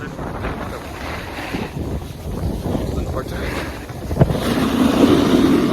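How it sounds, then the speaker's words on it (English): Strong wind buffets the microphone with a constant rumbling roar, gusting louder toward the end, over faint surrounding activity near open water. "It's gonna be a little windy, totally fine."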